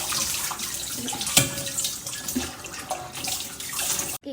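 Tap water runs steadily into a sink during dishwashing, a broad continuous splashing rush with a few clinks of dishes, fairly close and with no talking.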